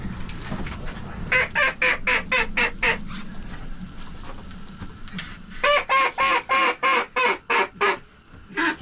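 Mallard ducks call during a blizzard field hunt, with several rapid bursts of loud, close quacking in rhythmic runs and short gaps between them.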